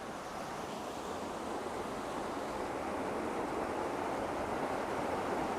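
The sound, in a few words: water from a waterfall spraying everywhere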